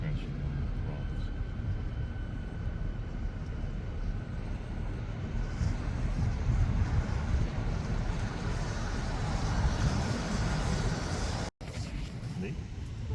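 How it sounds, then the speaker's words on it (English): Big Pacific ocean waves crash on the rocks along 17 Mile Drive at Pebble Beach, California, a continuous heavy roar of surf mixed with wind buffeting the microphone and one brief dropout. "Big waves crashing on the rocks."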